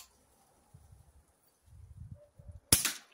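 An Air Arms S510 Carbine air rifle fires a single sharp, close crack near the end, preceded by quiet handling rustles and clicks.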